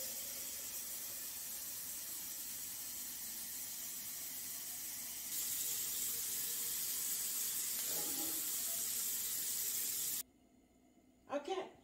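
Cool water runs from a kitchen tap into a measuring cup, a steady hiss lasting about ten seconds that briefly grows louder partway through, then stops abruptly with a couple of small clinks afterward.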